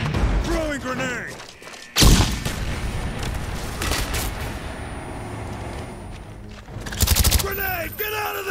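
A grenade explodes with a loud sharp boom amid gunfire in Call of Duty: Black Ops multiplayer on PS3, followed by a second heavy blast, with game voices shouting around the shots.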